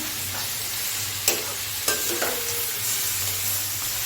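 Half a kilo of chicken being stirred into a curry in a hot pan, with a continuous loud sizzle and a few distinct scraping knocks of the spoon against the pan.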